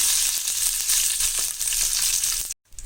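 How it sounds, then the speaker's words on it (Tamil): Mustard seeds and curry leaves crackle and sizzle in hot oil for tomato chutney, a loud, close, bright spitting hiss with scattered pops that cuts off abruptly near the end, with no voices. "கடுகு போட்டுட்டு இது பொரியட்டும் இப்போது கடுகு பொரிஞ்சிச்சு இதில் கருவேப்பிலை போட்டுக்கலாம்"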